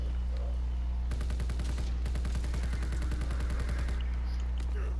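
Rapid automatic gunfire in a Call of Duty zombies Easter egg level, a steady burst of repeated shots lasting about three seconds over a constant low hum, fairly loud and close, with no talking.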